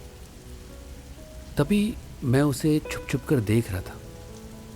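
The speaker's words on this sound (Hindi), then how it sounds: "बारिश अभी भी काफ़ी तेज़ हो रही थी।" A steady wash of rain falls in the background while someone speaks a short sentence over it.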